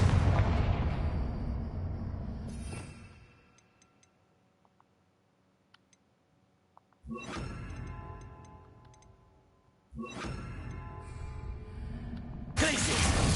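Confringo fire spells from Hogwarts Legacy burst in several loud, close blasts, each fading in a long rumbling tail, separated by quiet gaps with faint ticks.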